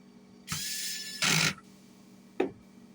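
Short bursts of a power driver screwing the guard back onto a Hitachi framing nail gun, two whirring runs back to back, then a brief final buzz, close and fairly quiet.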